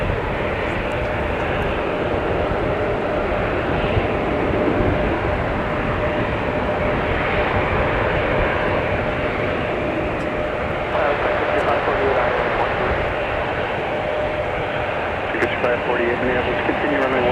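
An airplane passes during a winter storm at Minneapolis–St. Paul Airport, a loud sustained engine roar with wind noise, steady for the whole stretch.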